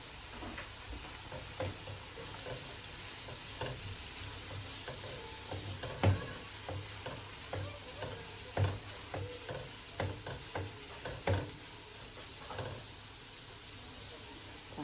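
Tomatoes and chopped garlic sizzle in a pan for a stuffed bell pepper dish, a low, continuous fry punctuated by repeated scraping stirs and soft knocks of a utensil against the pan.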